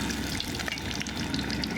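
Spring rolls deep frying in very hot oil, a dense, steady crackling sizzle with constant bubbling, close and loud with no pauses.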